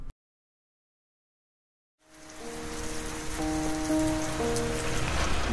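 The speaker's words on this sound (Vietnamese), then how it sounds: "Hôm nay mưa lớn thật đấy." Heavy rain in an animated cartoon, beginning abruptly after two seconds of silence as a dense, steady hiss and patter, loud and close, with faint tonal sounds layered within.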